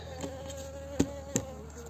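Honey bees hum at a hive being readied for winter, a soft continuous drone close by, broken by a couple of sharp knocks of the hive being handled.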